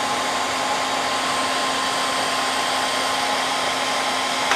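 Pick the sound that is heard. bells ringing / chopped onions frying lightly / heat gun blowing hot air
heat gun blowing hot air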